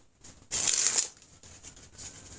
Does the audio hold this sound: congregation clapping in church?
no